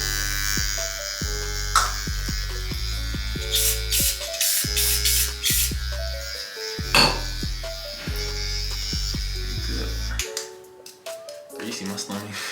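Electric hair clippers buzz steadily during a self haircut for 360 waves, their motor drone stopping and restarting in short bursts, with someone talking over them.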